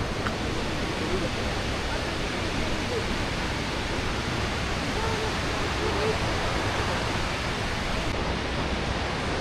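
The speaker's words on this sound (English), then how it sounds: "Across the way, it's a beautiful waterfall" A waterfall's constant roar, a dense, unbroken rush of water that stays steady and fairly loud from start to finish.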